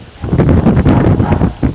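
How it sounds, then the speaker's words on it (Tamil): Strong wind buffets the microphone at the top of Ambuluwawa Tower in Sri Lanka, a loud, continuous low rumble with gusty surges, heard alone without talk. "நல்லா காற்று அடிக்குது மேலே ஏறி வந்தா."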